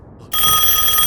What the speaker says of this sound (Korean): 그때 울리는 전화벨.